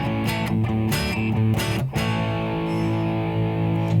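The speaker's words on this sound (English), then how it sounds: "it sounds a little bit more muffled." Distorted electric guitar through a distortion pedal with the tone knob turned down, giving a darker, muffled sound; a few loud strummed chord hits at the start, then a long sustained chord rings out and slowly fades.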